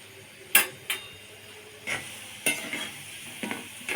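Flour-based sweets frying in hot oil, with a steady low sizzle under a handful of sharp stirring or scraping clicks from a utensil against the pan, spaced irregularly and close by.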